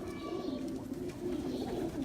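Lal Pari pigeons on a rooftop loft, a low steady cooing that runs continuously and fairly softly, with faint ambient noise.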